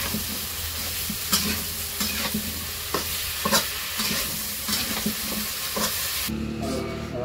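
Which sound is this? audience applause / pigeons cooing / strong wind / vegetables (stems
vegetables (stems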